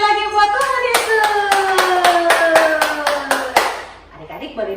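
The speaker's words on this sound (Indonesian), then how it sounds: "kita kasih tepuk tangan sekali lagi buat Tuhan Yesus" Children at an online kids' church service clapping in praise of Jesus: a run of sharp, rhythmic claps over sustained singing or voices, fading toward the end as a voice is heard.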